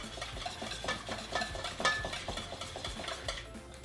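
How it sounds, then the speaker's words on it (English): Eggs being whisked in a bowl, a quick run of close, light taps and clinks of the whisk against the bowl, steady and without talk. "Whisk them until they are completely combined."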